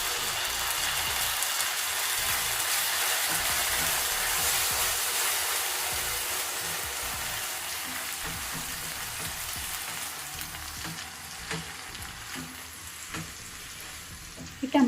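Tomato puree frying in a pan for vegetable korma, giving a steady, continuous hiss and sizzle that holds throughout, with a few scattered stirring clicks near the end.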